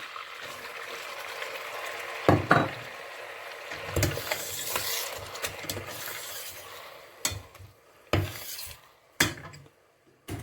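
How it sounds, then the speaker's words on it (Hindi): A metal spoon stirs butter melting with semolina in a pot for homemade desi ghee, giving a soft scraping bed broken by several sharp clinks against the pot's side, close and alone. "आप इसको चम्मच की मदद से मिलाना शुरू कर दें"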